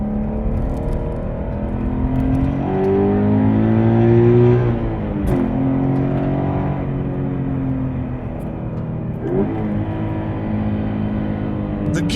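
Subaru BRZ engine revving high above 5,000 RPM, a loud, steady climbing whine that sweeps up and eases back in several pulls, close and alone with no talk.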